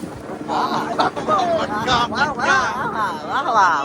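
Wind buffets a small boat rocking on the open sea off a beach, with rushing gusts and sloshing water beneath excited voices talking and shouting over the din.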